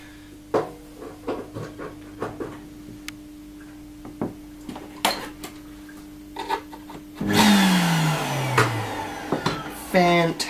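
A Nilfisk vacuum cleaner with a newly fitted motor is switched on for a test, bursting into a loud, close rushing whine after several seconds of small clicks and handling taps, then running steadily to the end.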